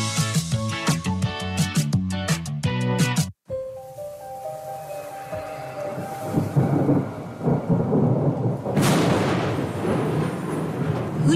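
Thunderstorm sound effect played on radio: a loud rolling thunder crash and steady rain hiss follow music that cuts off abruptly, the rumble building again toward the end.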